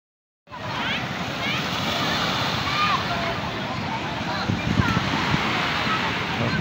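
Surf at Babah Kuala beach in Aceh Besar rolls in as a loud, continuous roar of breaking waves and splashing, starting abruptly and staying dense throughout, with no clear talk.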